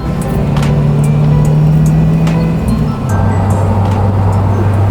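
A BMW E30 drives along at night with a steady engine drone and road rumble, the engine tone dropping partway through as it shifts gear; occasional clicks, no talking.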